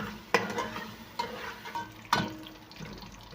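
Onions frying in a pan for stuffed vegetables give a steady sizzle, broken by several distinct scraping knocks as a utensil stirs them, each stroke loud and close, with no voices present.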